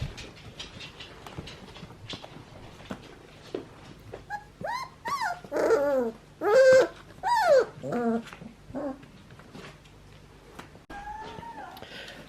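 A puppy whimpers and whines in a series of high, wavering cries, close by, between quieter stretches of faint background noise.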